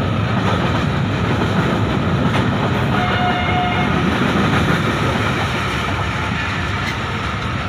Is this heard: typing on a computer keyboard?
no